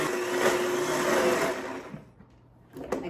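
A blender whirs steadily, mixing dates, eggs, vanilla and softened butter, loud and continuous for about two seconds before cutting out, followed by a brief clatter near the end.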